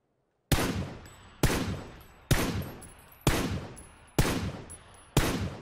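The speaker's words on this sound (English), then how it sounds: "I'm getting shot from across the map." Six loud, evenly spaced gunshots in a shooter video game, each a sharp crack with a long decaying tail, fired about once a second with no talking over them.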